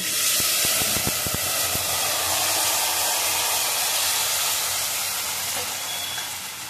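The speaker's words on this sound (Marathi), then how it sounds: "आता आपण त्याच्यामध्ये टाकूया डाळ आणि मका." Dal and corn go into a hot frying pan for a mixed dal amti, setting off a loud, steady sizzle and hiss with a few quick clicks at the start.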